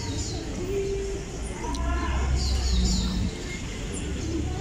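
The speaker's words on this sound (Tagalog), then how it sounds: "Daming kalapati." Pigeons coo on a street in Brazil in low, rolling calls repeated several times at moderate distance, over steady outdoor street hum with a few higher chirps.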